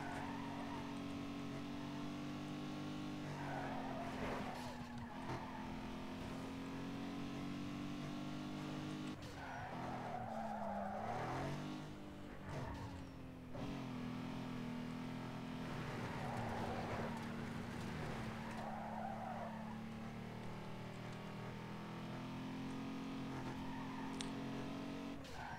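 A car drifting in Need for Speed Underground 2 on a hill, engine droning steadily while tires squeal and skid in repeated bursts, rising and falling revs throughout, with no talk.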